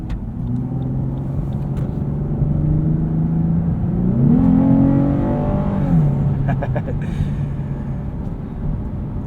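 A Lexus IS 350 F Sport sedan with a 3.5-liter V6 and 6-speed automatic accelerates, the engine note climbing and dropping as the transmission downshifts, a steady loud drone inside the cabin.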